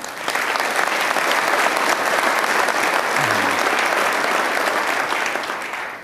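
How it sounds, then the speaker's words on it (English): Audience applause for the finalists at a government excellence awards ceremony, a steady dense wash of clapping from a large crowd that holds for about six seconds and tapers at the end. "I think they deserve a round of applause"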